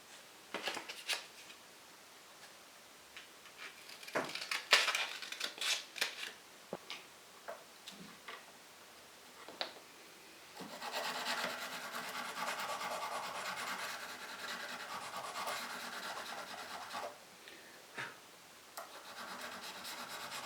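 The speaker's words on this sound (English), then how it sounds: "So I can actually feel when the sandpaper is engaging with the fret" Sandpaper rubs over the high spots of a guitar fret in a handmade guitar workshop, a close, dry rasping that starts in scattered short strokes, then settles into a steady continuous scrubbing for the second half.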